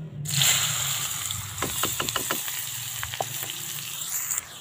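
Chopped onions sizzle and crackle steadily in hot oil for a fish karahi, with a series of scraping stirs and clinks of a utensil in the pan.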